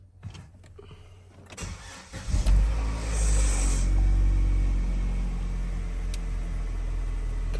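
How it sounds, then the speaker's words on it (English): A 2015 Vauxhall Zafira 1.4 petrol automatic starts after an oil and filter change: a few quiet clicks, then the starter cranks briefly and the engine catches into a steady, fairly loud idle that settles and keeps running alone. "So now we can start the car."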